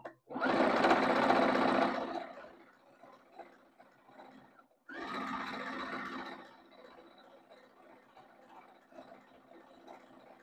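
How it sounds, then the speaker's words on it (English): Sewing machine stitching a quilt seam in denim cut from up-cycled jeans: two close, fast whirring bursts of stitching, the first about two seconds long and the second starting near five seconds, with quiet handling between. "and down this final seam"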